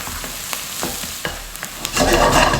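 Onions frying in a pan for a chicken curry, a steady soft sizzle broken by a few sharp stirring scrapes, then a louder surge of crackling near the end, close up and without speech.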